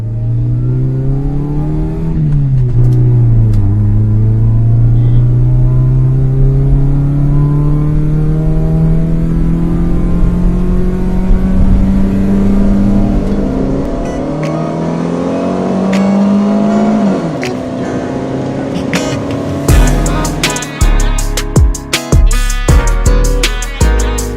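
A loud Suzuki Zen with a swapped-in 1.6-litre G16B engine revs and climbs steadily through its gears, holding a strong roar, then rough bursts and crackles as it changes pitch near the end.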